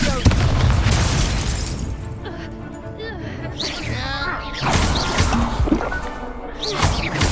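Confringo fire spells burst repeatedly during a wizard duel in Hogwarts Legacy, with loud booming blasts and crackling, sparkling tails over game music and shouted voices.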